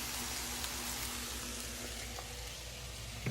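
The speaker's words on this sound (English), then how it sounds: "You can see it frying up so pretty." Steady, dense sizzling of okra frying in hot oil, a continuous crackling hiss with no talk.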